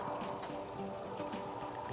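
Water trickles through quarter-inch holes drilled in a pipe above aquaponics grow beds, a soft steady splashing that runs evenly and close by.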